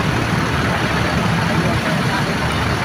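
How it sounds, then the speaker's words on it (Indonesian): The front-mounted engine of a PO Haryanto bus, heard from outside, idles with a steady, deep, heavy rumble at close range and no change in pace. "Dan ternyata ini nampak suaranya dari PO Haryanto mesin depan. Lumayan ya suaranya, walaupun dari luar."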